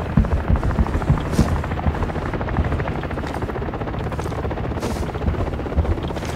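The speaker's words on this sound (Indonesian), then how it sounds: "helikopter nanti datang" Helicopter in the Arena Breakout video game, a steady loud rotor thrum and engine whine running continuously throughout with faint wind-like hiss, no talk.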